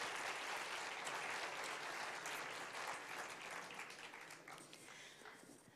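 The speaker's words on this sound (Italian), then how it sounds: "Facciamo un applauso," An audience at an educational orientation event applauds, a full wash of clapping that holds steady and then gradually thins and fades toward the end.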